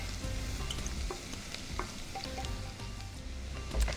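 Onions and garlic frying in a pan, with leftover seared shrimp bits being scraped from the pan bottom, give a steady close sizzle and occasional scrape and stir clicks for linguine sauce.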